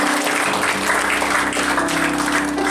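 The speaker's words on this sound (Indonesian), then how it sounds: "Tepuk tangan buat Tuhan Yesus." A church congregation claps for Jesus, dense clapping layered over a sustained musical tone and low hum, loud and steady throughout with no clear speech.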